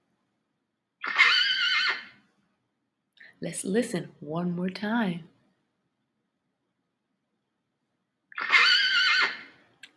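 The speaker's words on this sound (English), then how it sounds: "Yes, it is a horse." Two loud horse whinnies, one near the start and one near the end, with a brief stretch of talking in between.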